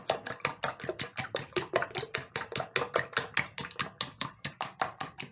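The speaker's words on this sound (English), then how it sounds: "Use a fork to mix in everything." A fork beats eggs and pepper in a bowl with brisk, evenly spaced taps and scrapes, about four strokes per second, close and clear with no talking.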